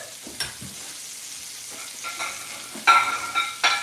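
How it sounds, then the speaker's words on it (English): Chicken pieces frying in a pan for a salad, giving soft sizzling with occasional louder bursts of crackle and stirring, fairly close and without talk. "while these are frying up"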